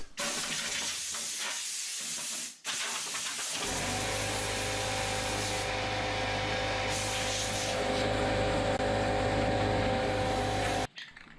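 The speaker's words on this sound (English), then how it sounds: "Now I use an air hose to remove all the dust." A loud, continuous hiss of compressed air blasting from a hose to blow dust off a refinished countertop, briefly cutting out near the start, then running steadily with a low mechanical hum beneath.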